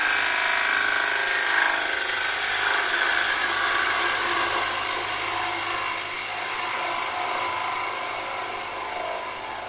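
A bowl gouge cuts a wooden bowl spinning on a lathe, giving a continuous loud, close hiss and whir of shaving wood that stays steady and easing slightly toward the end.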